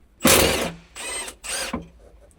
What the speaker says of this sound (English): Use the 13mm deep socket with the impact gun to remove the upper shock mount nuts.